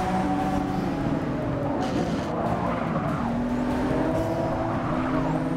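Ford GT 2017 racing on a Rio de Janeiro track in Forza Motorsport 6 Apex, the engine roaring loud and continuous with rising and falling pitch, joined by brief bursts of tire noise.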